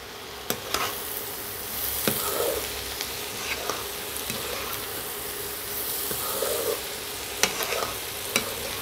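Onions with capsicum and sugar frying in a pan for mung dal noodles, a soft continuous sizzle with regular spatula scrapes and taps at close range.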